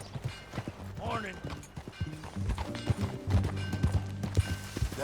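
A horse's hooves clip-clop at a steady riding pace in Red Dead Redemption 2, under characters' conversation and game music.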